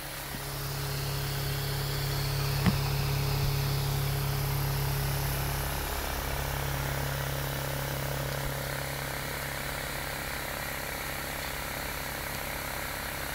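A pulse motor spins at high speed, giving a steady droning hum with a faint whine that holds level throughout, broken once by a brief sharp click.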